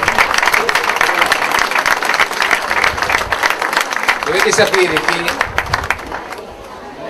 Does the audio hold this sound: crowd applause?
yes